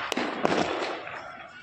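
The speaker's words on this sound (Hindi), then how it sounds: "देखो चारों तरफ, देखो पटाखे चल रहे हैं" Firecrackers going off all around during Diwali night celebrations, sharp cracks at the start and end over a continuous crackling, fizzing backdrop of distant bursts.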